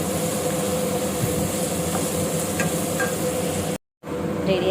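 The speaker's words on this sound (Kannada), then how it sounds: "ನಾನು ಬಂದು ಒಗ್ಗರಣೆ ಮಾಡ್ತಾಯಿದ್ದೀನಿ" Tempering spices sizzle in a pan with a steady, close frying hiss and some stirring scrapes, cut off by a brief dropout to silence before resuming.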